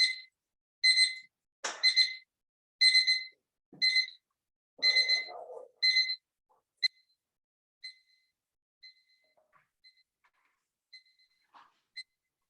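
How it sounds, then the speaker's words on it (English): A loud kitchen timer rings in a series of sharp, evenly spaced electronic bursts, then fades into sparse faint beeps with long gaps between them. "this is really a very loud timer"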